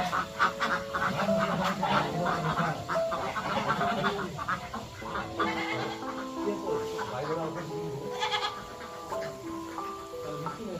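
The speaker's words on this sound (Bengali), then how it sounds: "হাঁস বেশি হাঁস বেশি রাজহাঁস কয়েকটা আছে" Ducks and a few geese on a small farm, calling in a busy, continuous chorus of overlapping quacks and honks at close range, with faint voices mixed in.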